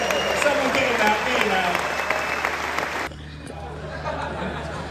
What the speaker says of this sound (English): Let's have a round of applause for this gentleman.